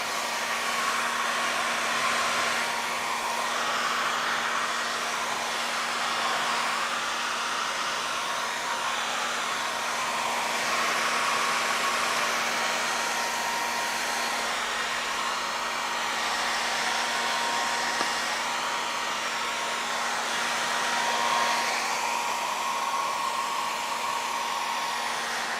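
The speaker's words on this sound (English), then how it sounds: "you can speed up the process with a hairdryer" A hair dryer blows steadily and loudly throughout, a constant whooshing roar with a faint steady hum, used to dry an acrylic-primed canvas; no one speaks.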